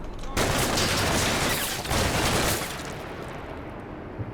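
Dense, sustained video-game gunfire from the Cold War wargame Combat Mission, an AK rifle among the shots, forming a loud roaring fusillade that peaks early and then fades into a softer rumble.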